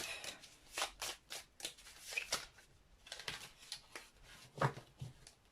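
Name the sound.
shuffling a deck of oracle cards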